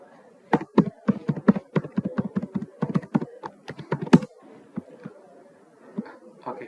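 Fingers typing a command on a computer keyboard, a quick run of crisp key taps followed by a few slower isolated presses, close and alone with no talking.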